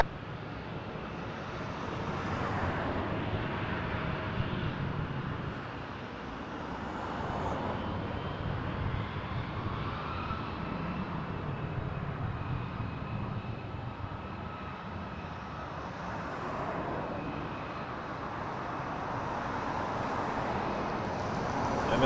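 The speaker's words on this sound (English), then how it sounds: "Air Canada 155 lining up next to Calgary, A320" An Air Canada Airbus A320-200 lines up on the runway at Toronto Pearson at night, its engines a steady, fairly distant roar with a broad rumble that swells and eases slightly over about twenty seconds, with some wind noise and no talk.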